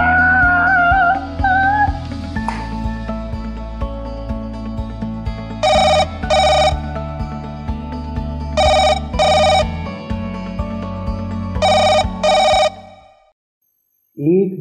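Phone ringing with an incoming call in a comedic Hindi husband-wife skit, repeated paired bursts of an electronic ring over a loud background music bed, three ring cycles before the sound cuts out.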